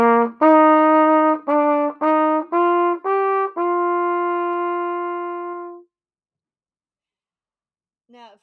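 A trumpet plays a lesson line of measures 5 through 8 at close range: a run of separate sustained notes, each note clearly tongued, ending on a long held half note, then silence and a brief faint voice at the end.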